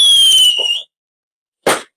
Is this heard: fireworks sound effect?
yes